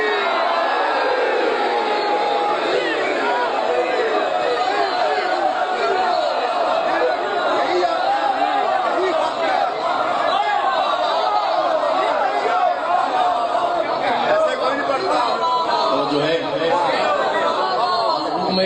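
A large audience at a religious gathering in praise of the Ahl al-Bayt roars back a chanted slogan, a dense, continuous mass of voices with shouts rising above the crowd throughout.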